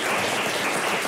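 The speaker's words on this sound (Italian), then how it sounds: "L'applauso dello studio." Dense studio applause fills a sports talk television studio, a brief, loud, even wash of many hands clapping.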